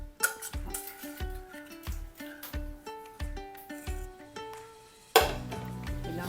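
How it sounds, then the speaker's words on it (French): A whisk mixing chocolate into egg yolks in a bowl: rapid rhythmic metallic clinking and scraping strokes, fairly close, with a louder clattering handling noise near the end. "Donc on reprend notre fouet de mélange."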